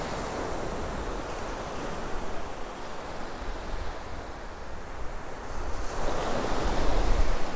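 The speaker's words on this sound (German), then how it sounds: "Ja, die Wellen sind moderat" Moderate ocean surf washes continuously onto a beach at Maspalomas, Gran Canaria, in near-calm weather, a broad steady roar that swells louder near the end, with light wind noise on the microphone.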